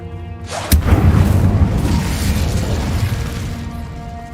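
Confringo fire spell blast from Hogwarts Legacy: one sharp, loud boom strikes early, then a broad rumbling roar of fire and debris lingers and slowly fades without any talking.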